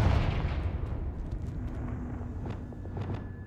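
A fiery Confringo spell blast in the Hogwarts Legacy video game: a deep rumbling explosion opens, then settles into crackling, popping debris over a low roar.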